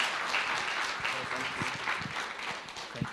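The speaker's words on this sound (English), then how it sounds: "Another round of applause, guys." An audience applauds steadily at a community sickle cell awareness event, a dense patter of clapping hands mixed with scattered voices.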